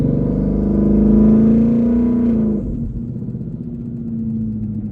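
A twin-turbo 2020 Shelby GT500 engine with a Th400 transmission swap drones loudly under load, its pitch climbing, then drops off with a whoosh as it eases into a steady, lower idle-like hum.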